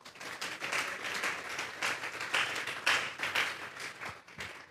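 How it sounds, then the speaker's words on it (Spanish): Church congregation applauding during a sermon, a steady crowd of clapping hands that swells and dips for several seconds, moderately close and with no talk over it. "Vamos a darle un fuerte aplauso pues al Señor."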